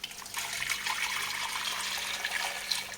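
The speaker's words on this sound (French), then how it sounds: "Allez, on ajoute notre bouillon de poisson." Fish broth poured into a pan of butter-and-flour paste for a fish blanquette, a steady close liquid splash and trickle running without a break, with no talking.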